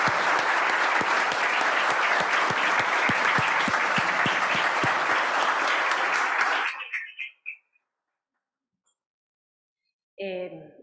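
An auditorium audience at a panel discussion on Mexican competition policy applauds for Eduardo Pérez Mota: dense, loud, sustained clapping for about seven seconds, then it stops abruptly into near silence before a voice starts speaking.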